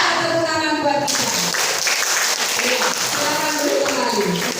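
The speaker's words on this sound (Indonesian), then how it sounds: "Tepuk tangan buat kita" Students applauding together in a vocational high school classroom, a dense, steady wash of clapping that fills the room close by, following a brief spoken call at the start.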